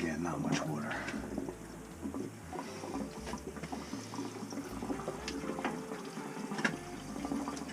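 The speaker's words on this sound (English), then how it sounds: "let's pop this so the water drains down" Water drains from a Navien combi boiler during a circulator pump replacement, a steady close trickle and gurgle running the whole time under a speaking voice.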